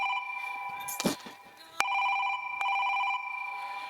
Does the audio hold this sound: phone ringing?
yes